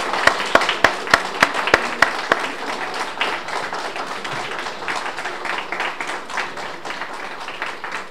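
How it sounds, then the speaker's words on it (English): A seated audience gives a St. Lucia vascular surgery mission team a round of applause at an opening ceremony, with a few sharp individual claps at the start before dense, steady clapping fills the room. "So my MHMC team, please stand so that you can be appropriately applauded."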